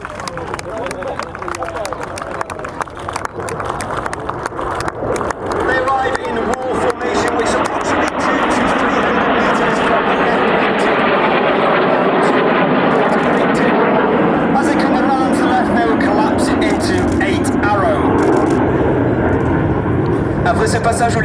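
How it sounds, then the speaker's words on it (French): Red Arrows jet aircraft making their first pass over an airshow at Avord, a loud broad roar that builds and holds steady for about twenty seconds, with crowd chatter and a commentator's voice mixed underneath. "premier passage des Red Arrows."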